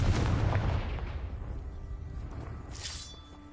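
Confringo explosion spells cast in a Harry Potter video game: a loud, booming blast with a rumbling low-end tail that decays over a few seconds, followed by a brief bright whoosh near the end.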